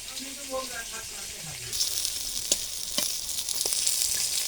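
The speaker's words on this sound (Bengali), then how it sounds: "মাছগুলো একদম লাল কালার সুন্দর করে ভেজে নিয়েছি।" Boal fish fry in hot oil, a steady sizzle building from about halfway through with a few sharp pops and spatters, while faint voices murmur in the background early on.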